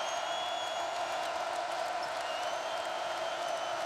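Basketball arena crowd at a college game between Louisville and Notre Dame, a steady roar of cheering and whoops filling the hall with no gaps, loud and sustained throughout.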